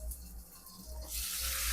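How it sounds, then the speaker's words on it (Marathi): Capsicum and tomato pieces fry in a kadhai while cooking paneer masala. Quiet hiss for the first second, then a louder, steady broadband sizzle takes over and holds to the end, with no talking. "हे जे सिमला मिरची जे तुकडे होते आणि टोमॅटोचे, हे मी याच्यात फ्राय करून घेणार आहे."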